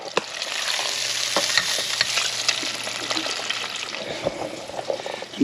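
Bacon and beans frying in a pan, a steady dense sizzle with occasional stirring scrapes and small pops, close and continuous with no talking.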